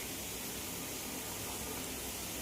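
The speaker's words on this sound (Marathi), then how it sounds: "याच्यामध्ये पाणी टाकते." Water poured into a bowl in a home kitchen, a soft, steady gushing stream at low level, continuous throughout with no talk.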